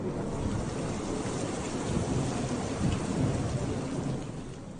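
A heavy thunderstorm downpour over Laramie, Wyoming, with dense, steady rain roaring on surfaces and low thunder rumbling through it, swelling briefly near the end, loud and continuous with no voices.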